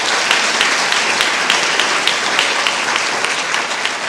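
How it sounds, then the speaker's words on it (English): A theater audience at a storytelling show in a historic art theater breaks into steady, dense applause that fills the whole stretch evenly, loud and close, with no one talking. "Can we give them another round of applause?"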